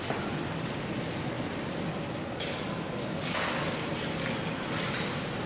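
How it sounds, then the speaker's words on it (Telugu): Water poured into frying masala for a large batch of mutton curry gravy, a broad steady rushing splash with a sharper surge partway through, continuous and fairly loud. "గ్రేవీకి సరిపడినంత వాటర్ పోసుకుందాం."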